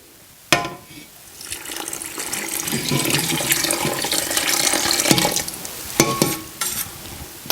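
Water pours and splashes steadily into a pot for several seconds while making kumquat marmalade, with a few clinks of utensils.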